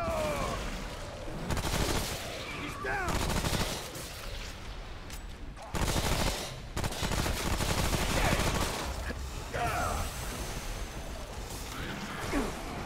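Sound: gunfire in the video game Remnant: From the Ashes

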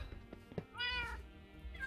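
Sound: cat meow in a video game

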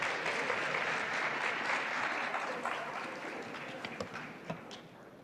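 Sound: audience applause

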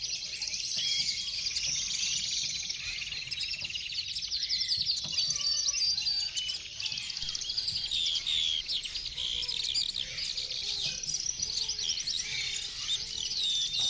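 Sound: birds singing

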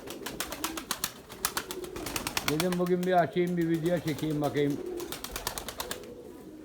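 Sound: pigeons

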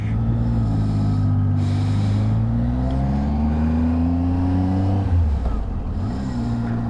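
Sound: car driving on a mountain road near Khardung La

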